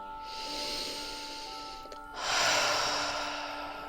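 Close, amplified breathing during a stage show: a long airy inhale followed by a louder, rushing exhale, heard alone over a faint steady hum.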